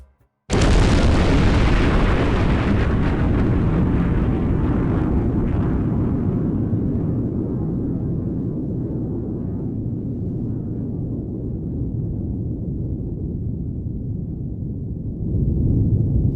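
A plasma bomb explodes in the video game OverBlood 2, a sudden loud boom followed by a long rumbling roar that slowly fades over many seconds.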